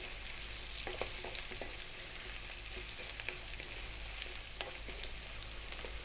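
Pork for sweet and sour pork sizzles and crackles in a wok over high heat while being stirred, with a steady frying hiss and occasional clinks of utensil strokes throughout.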